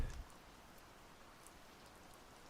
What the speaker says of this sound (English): focus on the rain. The smell of it. The sound it makes.